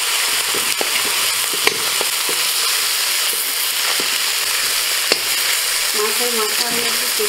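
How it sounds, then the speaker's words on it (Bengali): Fish heads sizzle steadily in hot oil in a pan for a Bengali cauliflower curry, a dense continuous frying hiss with a few sharp pops and spatters and occasional clinks from stirring. "এবার আমি মাছের মাথাগুলো ভেজে নিই।"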